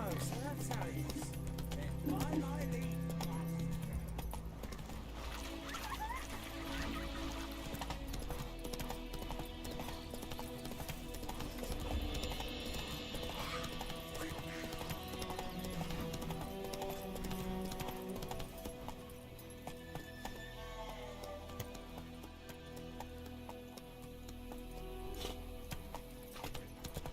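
Roach the horse galloping in The Witcher 3, rhythmic hoofbeats under game music and a voice talking, with the galloping steady throughout the scene.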